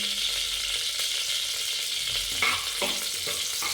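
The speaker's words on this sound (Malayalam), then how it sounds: "1 സ്പൂണ് കടുക്, 1 വറ്റൽ മുളക് രണ്ടായിട്ട് കീറിയതൂടെ ഇടുന്നു. ഇട്ട് നന്നായിട്ട് ഇളക്കുന്നു." Mustard seeds and a split dried red chili fry in hot oil for an Onam ginger curry, a steady loud sizzle and crackle with a spoon stirring and scraping the pan toward the end.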